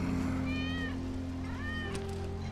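Wedge's cat meowing in the video game Final Fantasy VII Remake, two clear drawn-out meows about a second apart over a steady low game hum.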